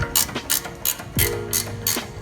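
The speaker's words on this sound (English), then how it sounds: "if you have a ratcheting wrench, you can put the Allen wrench in" Ratcheting wrench turned with an Allen wrench set in it, holding the ball joint's center while the nut spins off during a Brembo brake upgrade; a series of quick, close clicking ratchet bursts, about six, with no talking.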